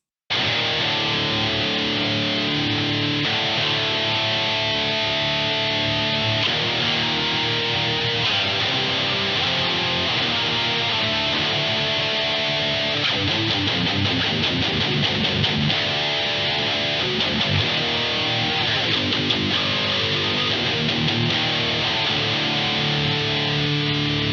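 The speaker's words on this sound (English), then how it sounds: "That actually adds a bucket load of really, really good saturation to the distortion." A heavily distorted electric guitar plays sustained, saturated chords and riffs continuously, thick and buzzy, with no talking.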